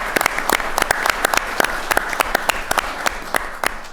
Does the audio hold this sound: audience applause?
yes